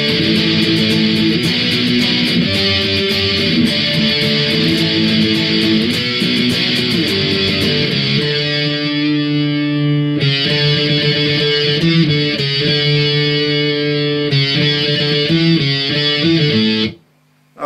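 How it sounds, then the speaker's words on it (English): Heavy distorted electric guitar power chords from a song's intro, a dense, loud strummed wall of sound that drops to sparser chord hits before cutting off near the end. "this is like where the song kind of really kicks in and starts doing like some heavy kind of distorted power chords"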